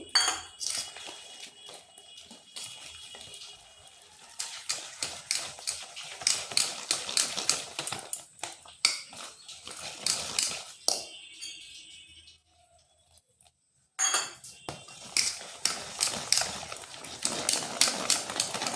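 Boondi batter of gram flour and water being beaten in a bowl, a fast run of rapid clicking strokes that pauses briefly and then resumes, close and fairly loud with no voice.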